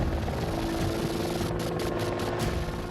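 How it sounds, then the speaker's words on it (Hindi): An Apache attack helicopter flying, its steady rotor and engine drone filling the whole stretch at a constant, fairly loud level with no talk. "अपाचे हेलीकॉप्टर यूक्रेन की जंग में शामिल होने जा रहा है"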